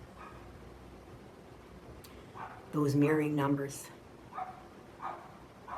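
A dog barks a few times in the background, a short burst of barking rising briefly over a soft noisy backdrop, followed by fainter yips, while a person talks nearby.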